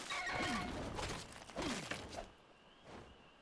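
A horse in the video game ARK squeals and whinnies in two loud, shrill bursts close by, followed by a fainter third cry as the sound trails off.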